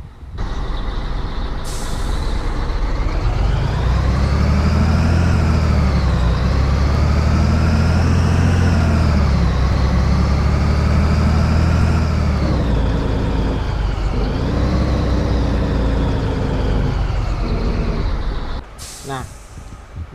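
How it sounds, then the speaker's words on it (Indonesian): A heavy truck's engine brake in World Truck Driving Simulator, heard from the cockpit as a loud continuous low drone that rises and falls in pitch, with a sharp air hiss near the end. "Nanti ketika gue di cockpit agak kencang suara nih engine brake ini"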